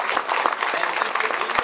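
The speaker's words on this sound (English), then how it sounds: "So big round of applause for them." Audience at a business analysis event applauds participants, loud continuous clapping with scattered crisp individual claps, close and full for its short length.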